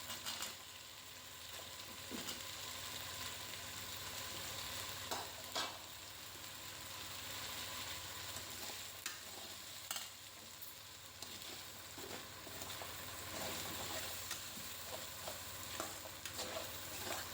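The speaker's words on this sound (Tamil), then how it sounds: "இஞ்சியும் பூண்டும் ஈவனாக வதங்கும் இப்போது நான் பூண்டு சேர்த்துக்கிறேன்" Ginger and garlic sauté in a pan for a ginger thogayal, giving a faint, steady sizzle with occasional soft stirring scrapes throughout.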